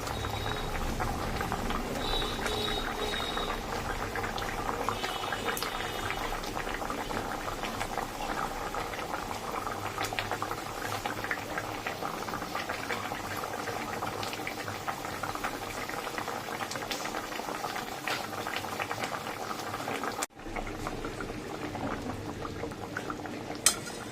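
A mustard-poppy-seed curry of catla fish boils steadily in a pan, a continuous close bubbling and simmering that runs throughout, with a faint clink of utensils near the end.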